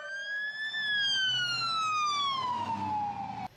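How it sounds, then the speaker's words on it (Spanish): Tsunami evacuation warning sirens sound along the Chilean coast, a single loud wailing tone that rises briefly and then slides slowly downward, carrying steadily over low background rumble without any talk. "A esta hora suenan las sirenas"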